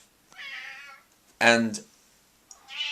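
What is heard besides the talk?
cat meowing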